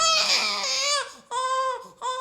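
A baby cries in three long wailing bursts with short breaths between, fairly close and moderately loud, with no other sound present.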